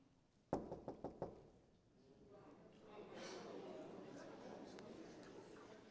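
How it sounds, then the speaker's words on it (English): Four sharp knocks on a door in quick succession, fairly close and loud, followed by a murmur of room noise and indistinct background chatter. "Someone's at the door."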